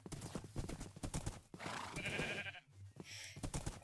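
Horse hooves clip-clop in Minecraft in a quick, steady rhythm, close and fairly loud, with brief bleating animal calls mixed in.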